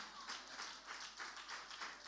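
A church congregation applauds steadily and faintly in a large room, a continuous wash of many hands clapping with no voices on top.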